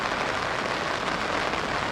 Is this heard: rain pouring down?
yes